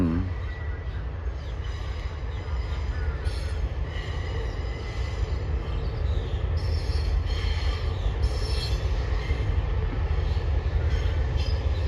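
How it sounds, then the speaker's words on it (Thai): Train wheels squeal against the rails in long, high-pitched screeches over a steady rumbling roll of railcars as a special express train pulls into a platform at Krung Thep Aphiwat station, loud and continuous throughout. "เสียงล้อเบียดรางกัน"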